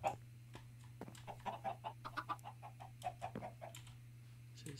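Blocky square chickens in Minecraft cluck in short, uneven bursts, a soft run of clucks and calls over a low steady hum, close by and fairly quiet.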